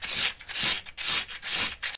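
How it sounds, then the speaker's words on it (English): 180-grit cloth-backed sandpaper on a block sanding along a plasterboard edge, a close, steady rhythmic scratching with four back-and-forth strokes in about two seconds. "So 180 grade cloth back sandpaper"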